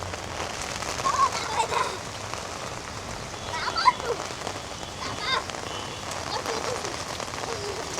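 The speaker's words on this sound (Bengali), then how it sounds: "1 সেকেন্ডের জন্য বৃষ্টি বন্ধ হয় নাই বুঝছ" Steady rain pours on surfaces around a rural homestead during an all-day downpour, a dense continuous patter with scattered louder drops, while people talk faintly in the background.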